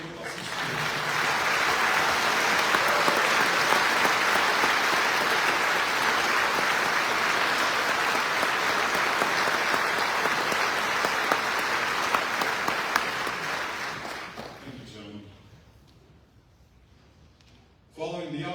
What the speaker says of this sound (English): let us have a round of applause for all those Rangers standing with us in spirit